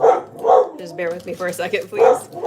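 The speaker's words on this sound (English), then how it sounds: "That's my dog upset that there's noise outside." A pet dog barks and yips a few times indoors, agitated by noise outside, its barks mixed in with someone talking in a kitchen.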